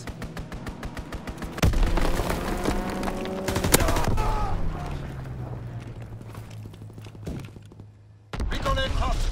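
Strafing run gunfire from an aircraft in Call of Duty WWII, with loud sustained bursts and a heavy thump midway, rumbling engine drone, then a fresh loud burst near the end.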